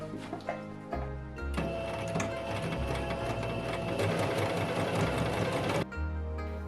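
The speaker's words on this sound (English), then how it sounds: "And now, let's start sewing." A sewing machine stitching kimono fabric for a cosplay haori, starting with short bursts and then running in a long, steady, close mechanical whir before stopping and restarting briefly.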